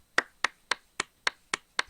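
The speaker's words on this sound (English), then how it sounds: "He stops when he hears clapping." Slow, deliberate clapping inside a dimly lit cathedral in the Code: Realize video game, seven crisp claps spaced evenly at a steady rhythm, isolated against near silence.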